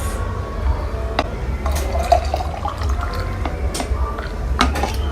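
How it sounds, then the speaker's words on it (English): Warm water poured into a bottle holding a tea packet, a steady liquid trickle with small drips and splashes over low background hum, with no talk. "And then I'm going to add warm water to this."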